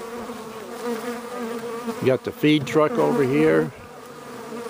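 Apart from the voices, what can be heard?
bees buzzing around beehives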